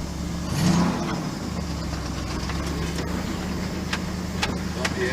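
Car rolling over a rough, bumpy road with a steady low engine drone and scattered knocks and rattles from the body, while people talk quietly in the background.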